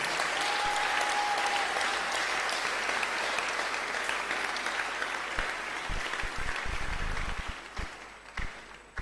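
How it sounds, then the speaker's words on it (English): A church congregation claps together during a Wednesday worship service, a loud, sustained wash of applause from a large crowd that holds steady and then thins out toward the end. "Can we give the Lord a clap offering on their behalf?"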